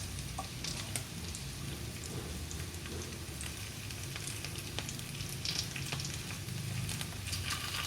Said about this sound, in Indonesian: Ini saya menggoreng sudah sekitar 5 menitan.